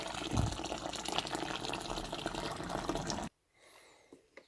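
Steady rush of hot sparge water pouring into a grain mash for about three seconds during home brewing, then it cuts off, leaving faint quiet handling sounds.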